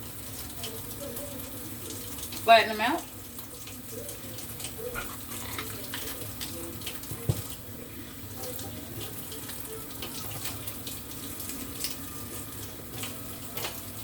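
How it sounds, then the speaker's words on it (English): Kitchen tap water runs steadily while halved red peppers are rinsed and seeded, a continuous nearby splash with a brief louder clunk early on and a speaking voice over part of it. "Get some water, rinse it out, get all the seeds out."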